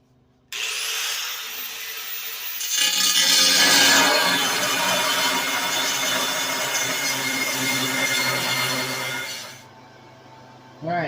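A Harbor Freight gasifier weld kit tank being cut into sections, a loud, harsh, sustained grinding cut that starts suddenly, swells, holds for several seconds and then cuts off.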